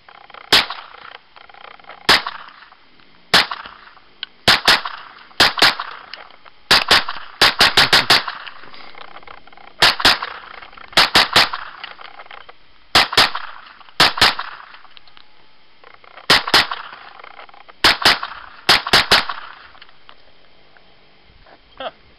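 A Thompson 1927 submachine gun fires sharp, loud gunshots in irregular single shots and quick bursts of two or three, each with a short echoing tail, spread across a long stretch outdoors.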